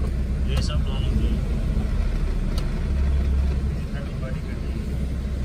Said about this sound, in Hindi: यार आरपीएम देख कितना ऊपर चला गया